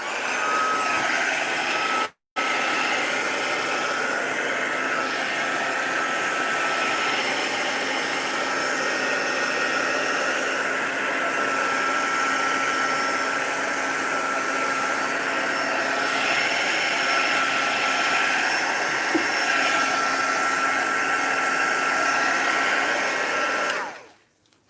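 Crafter's Choice heat tool blowing hot air over alcohol inks, a loud, steady, close whir with one brief dropout near the start, then stopping at the end.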